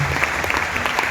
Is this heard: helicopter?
no